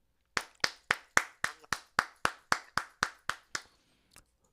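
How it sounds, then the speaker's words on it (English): A single person claps about a dozen times at an even pace, sharp, close and dry, on a morning radio show, then stops with one last soft tap. "Let's applaud me."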